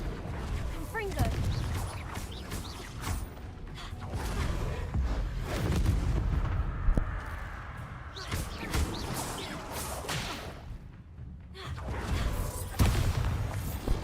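Confringo spell explosions in Hogwarts Legacy burst and boom repeatedly amid whooshing game effects, with a voice calling out spell names over the din.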